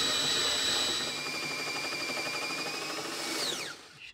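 A spot weld drill bit grinds steadily into the steel of a Mercedes R107 inner wheel arch with a high whining tone, steady throughout, then winds down and stops near the end.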